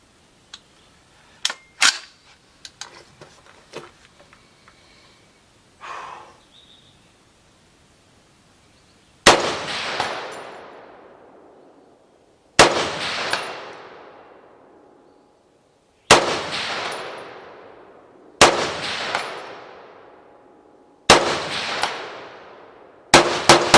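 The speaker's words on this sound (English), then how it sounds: "I'll try a couple at 150, 200 yard mark, and then we'll just do a mag dump of the last 5" Noreen BN36X3 AR-platform rifle in .30-06 firing a rapid string of five loud shots outdoors, each a sharp crack with a long decaying ring, after a stretch of quieter clicks and handling noises.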